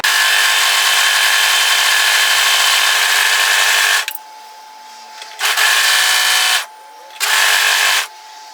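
An overlocker serges the raw edges of apron fabric in a loud, steady high buzz, running for a few seconds, stopping briefly, then starting and stopping again in short bursts.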